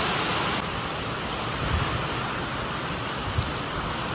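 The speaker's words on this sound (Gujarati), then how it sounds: "તો ગાજવીજ સાથે વરસાદ આવી ગયો" Heavy rain falls steadily in a village during a summer storm, a dense, even hiss of drops up close with no voices.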